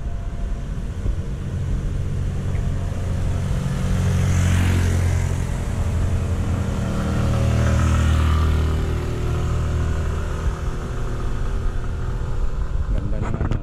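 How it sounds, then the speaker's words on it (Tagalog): Motorcycles labor up a steep uphill trail, their engines a continuous loud drone that rises and swells twice as they pass close by, with other trail noise underneath. "Tingnan mo yung motor, oh. Hirap sila umahon."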